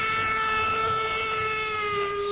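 A self-powered train in modded Minecraft sounds a sustained, steady whistle-like horn tone with a low rumble beneath it, loud and continuous throughout.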